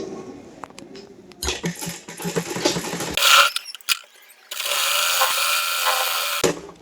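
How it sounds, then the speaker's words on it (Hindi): Sewing machine stitching suit fabric in bursts of mechanical clatter, with pauses and short handling noises between runs, close and fairly loud. "इस पर भी हम पूरे में सिलाई लगा लेंगे"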